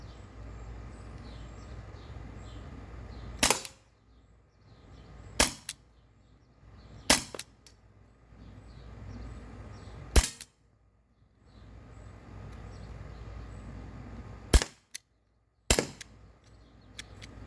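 .43 caliber rubber paintballs, kept a week in a freezer, are fired from a paintball gun at cans outdoors. There are about seven sharp, loud pops at irregular intervals, some followed by faint impacts, with quiet ambience between shots.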